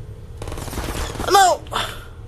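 Enemy gunfire shooting at the player in the video game Portal, a short burst of loud pops layered over game sound, followed by a second quieter burst.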